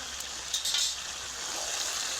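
Turmeric powder being stirred into a curry frying in a pan, giving a steady soft sizzle with faint scraping strokes from the stirring and no voices.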